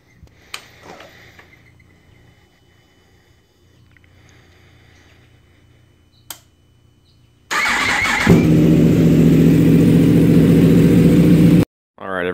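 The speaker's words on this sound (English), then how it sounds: "start the bike up for a second to get the oil nice and a little warm" A 2015 Yamaha R1 sportbike starts after several quiet seconds of background sound, then settles into a loud, steady, close-up idle as it warms up before cutting off abruptly.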